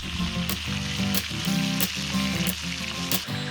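Diamond-scored fish sizzles steadily in a pan, a dense continuous frying crackle with a few sharp spitting pops, close and fairly loud.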